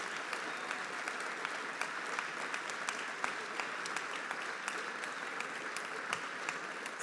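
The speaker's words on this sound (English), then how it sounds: "Yes, give him a round of applause." An audience claps steadily for about seven seconds, a dense, even round of applause with no voices over it.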